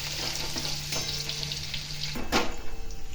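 Garlic sizzles in hot oil in a pan while cooking a corn curry, a close, steady crackling fry with stirring scrapes that grows louder as it is stirred toward the end.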